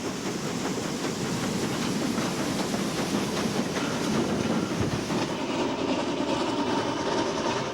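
A steam locomotive train rumbles steadily along the rails with a dense, continuous roar and faint rhythmic clatter of wheels, close and loud throughout.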